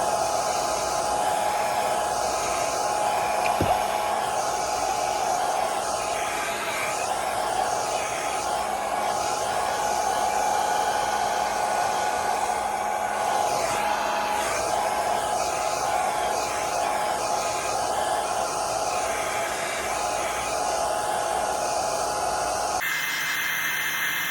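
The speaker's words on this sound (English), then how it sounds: "And then we're gonna get the blow drying" A hair dryer blows steadily on a wig, a loud continuous whooshing hiss that holds at one level for the whole stretch and then cuts off abruptly near the end.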